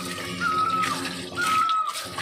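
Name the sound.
spring water flowing into a vessel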